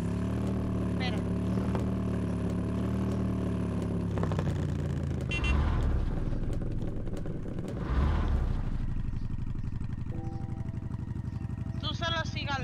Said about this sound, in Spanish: Ah, súbete a la moto.